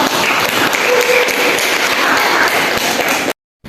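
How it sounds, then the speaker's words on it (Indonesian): Steady applause from a room of students clapping after a group presentation, dense and continuous for about three seconds at close range before cutting off abruptly. "Aplaus untuk kelompok 2"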